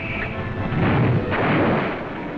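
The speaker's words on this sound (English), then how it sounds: "Our guns open up with a devastating barrage, plowing a path of exploding shells over the town and airfield." Artillery barrage from a 1944 wartime newsreel, a dense continuous rumble of exploding shells and booming gunfire with no distinct separate blasts, loud and sustained throughout.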